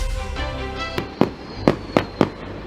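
New Year fireworks and firecrackers go off in five sharp, loud bangs spaced irregularly over a low rumble, with a hiss trailing between blasts.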